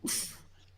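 A single quick sneeze bursts out sharply and fades within half a second, leaving only a low hum behind.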